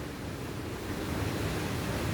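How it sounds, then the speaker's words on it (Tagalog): Storm wind in Laguna blows as a dense, steady roar with low rumbling gusts against the microphone, loud and unbroken for the brief stretch. "ang hangin niya ay grabe"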